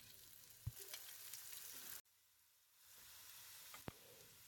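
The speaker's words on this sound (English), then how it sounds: "Будем жарить лук примерно 5 минут." Onions for Russian chicken soup fry in a pan with a soft, steady sizzle. One stir thuds early on, the sizzle briefly drops out, and a second stir knocks near the end. No one speaks.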